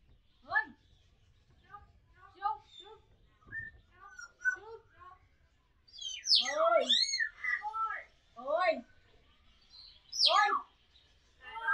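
Small birds chirp at Nandankanan zoo in Bhubaneswar, a run of quick, high, bright tweets and calls in short bursts, some close and loud, others fainter, with no talking.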